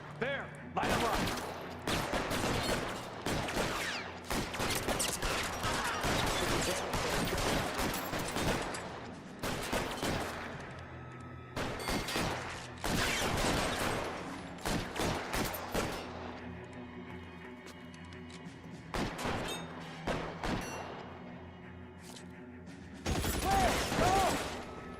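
Rapid bursts of gunfire from a shootout in the video game L.A. Noire, loud and dense with repeated volleys and mechanical clacks, pausing briefly between exchanges across the stretch.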